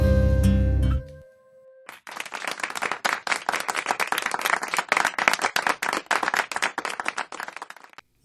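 Applause for a retiring police officer breaks out after a brief musical opening and a short lull, sustained clapping from many hands that stays dense and lively for several seconds, fairly close, with no speech over it.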